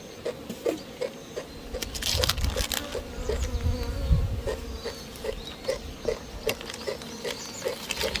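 Honeybees buzz around an opened beehive during a spring colony check, a close, wavering insect drone with rising and falling swells and a busy ticking patter, no voices present.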